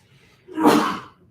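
A single sharp sneeze bursts out nearby, a quick breathy blast that rises and fades within about half a second.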